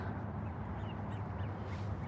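Ducks, including drakes, quack faintly in the distance over a steady low rumble of outdoor background noise.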